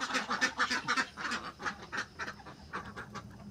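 Khaki Campbell ducks on a farm quack repeatedly in a fast, uneven run of close, loud calls that overlap and then thin out toward the end, with no talking.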